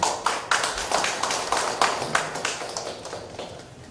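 A small crowd claps for guests being introduced at a crafts exhibition opening ceremony in a gallery. The applause comes in steady, fairly close bursts of hand claps over about four seconds.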